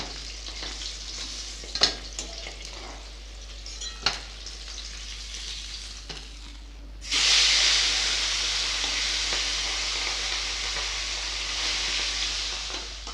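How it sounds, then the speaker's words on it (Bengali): Pieces of rohu fish frying in hot oil in a home kitchen: a low crackle with a few clinks at first, then a loud, steady sizzle and hiss that starts abruptly and carries on to the end. "এইভাবে সব মাছগুলো ভেজে নেব"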